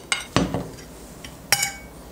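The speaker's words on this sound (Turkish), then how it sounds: "Karıştırıyorum." Breadcrumb, cornmeal, red pepper, salt and thyme coating mixed on a plate, with a few sharp clinks and scrapes of cutlery against the dish in short bursts, close and fairly loud.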